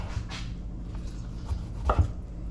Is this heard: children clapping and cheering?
no